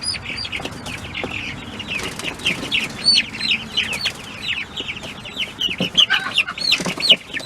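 Young chicks on pasture at a poultry farm peep and chirp busily, with clucking fowl and occasional wing flaps, fairly close and continuous with no talking.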